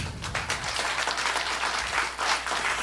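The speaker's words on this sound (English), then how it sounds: "Round of applause." Audience at a Unity Sunday church celebration applauding the volunteers, a sustained burst of dense clapping from a sizable crowd, steady and fairly loud throughout.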